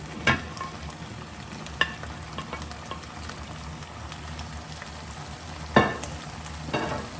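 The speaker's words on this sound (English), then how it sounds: "So as that's been sweating for about 10-12 minutes there" Peppers, whole garlic cloves and celery sweating in a soup pot: a soft low sizzle runs steadily, broken by a few sharp spoon knocks and stirs, fairly quiet with no talking.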